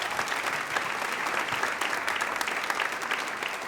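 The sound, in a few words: church audience applauding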